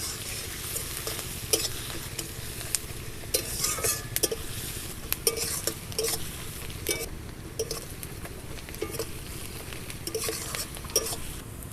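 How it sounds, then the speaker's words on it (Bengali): Chopped onions fry in a pan until reddish-brown for a potato chicken curry, giving a steady close sizzle broken by repeated scraping stirs and light clinks of a utensil against the pan, with no talking. "পেঁয়াজগুলো লাল লাল করে ভেজে নেব।"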